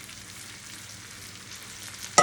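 Mushrooms hitting a pan of hot butter and oil give a soft, steady sizzle, ending in a sudden loud hiss as more go in.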